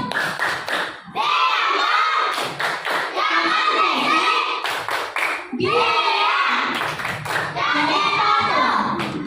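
A classroom group claps in a quick rhythmic pattern, bursts of patterned clapping repeating with brief pauses, mixed with children's voices chanting along.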